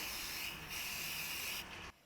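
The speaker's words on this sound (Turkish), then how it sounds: "Boğaz kelebeğimizi fırçalıyoruz. Spreyimizi de sıkıyoruz." Aerosol cleaner sprayed onto the throttle body of a Fiat Linea during an engine cleaning, a steady close hiss lasting nearly two seconds before cutting off abruptly.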